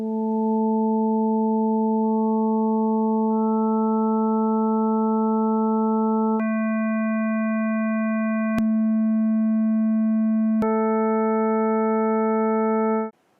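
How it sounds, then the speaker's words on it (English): Steady synthetic tones from an online waveform generator, holding a low fundamental while its harmonics change in steps, giving a smooth continuous buzzy hum that shifts timbre a few times with two brief clicks, then stops abruptly. "You can use this interactive website called a Waveform Generator to change the amplitude of different harmonics and see what it sounds like."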